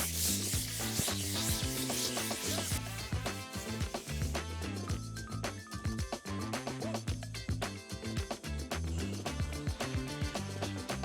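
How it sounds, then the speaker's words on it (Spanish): Hand sanding of primer on a wooden makeup vanity with 400-grit sandpaper, a steady loud rubbing scrape of back-and-forth strokes running continuously throughout, with no talking. "voy a darle una mano de lija al 400 para botar todas esas impurezas que le quedan encima"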